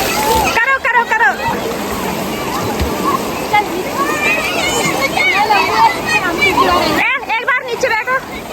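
Bathers splash and slosh in cold river water at Triveni Ghat in Rishikesh amid a busy crowd, steady close water noise with voices talking over it throughout.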